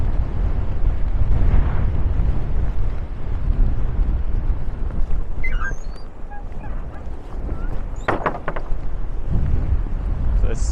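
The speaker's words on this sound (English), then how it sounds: "still very strong winds" Strong wind roars across an open hill near a woodland edge in Aberdeenshire, buffeting the microphone with continuous low rumbling gusts throughout; a brief higher rustle or faint voice-like sound appears near the end.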